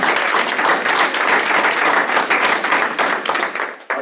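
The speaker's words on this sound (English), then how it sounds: "So give yourselves a round of applause." A meeting audience claps in a dense, sustained burst of applause, loud and close, with rapid overlapping hand claps that taper slightly near the end.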